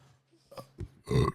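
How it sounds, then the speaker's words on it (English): A person burps close into a microphone, a couple of short guttural bursts ending in one louder, longer belch. "If you got burp into the microphone, it's like a staple of the show."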